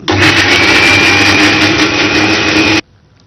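A countertop blender grinds fresh turmeric with coconut milk, a loud steady whirring roar running nearly three seconds before cutting off abruptly into near silence.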